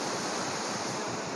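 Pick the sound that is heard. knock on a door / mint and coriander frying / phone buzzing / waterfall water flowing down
waterfall water flowing down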